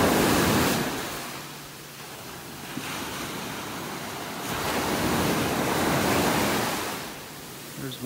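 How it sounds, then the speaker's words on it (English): Waves break on the beach at North Naples, Florida, broad rushing surf that swells and fades in slow surges, with wind buffeting the microphone throughout and no talking. "I'm at the north end of Area 3 beach"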